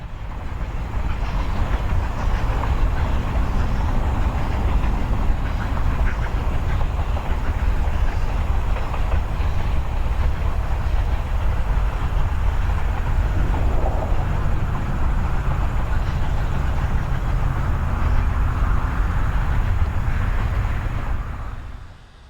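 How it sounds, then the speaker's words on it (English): Steam locomotive 765 pulling an excursion train departs Edon on a warm summer morning, a steady loud rumble of wheels and rolling cars that holds throughout without voices. "the 765 and train departed Edon in a haze of a warm summer morning"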